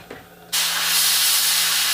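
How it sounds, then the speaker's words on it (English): After a brief quiet moment, a spray paint can releases yellow paint in a sudden, steady, loud hiss that carries on without a break, close by. "we are just going to barely spray a little tin of yellow"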